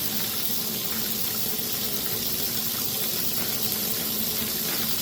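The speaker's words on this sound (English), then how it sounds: "running the water" Water pours from a faucet into a sink in an even, unbroken stream, close and moderately loud, with no voices over it during a model body stripping job.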